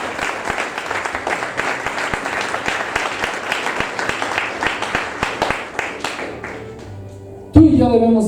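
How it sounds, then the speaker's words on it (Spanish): Strong audience applause at a church service on the kingdom of God, dense rhythmic clapping from a crowd that fades out over several seconds before a voice comes in at the end. "Dale un fuerte aplauso al que vive el reino."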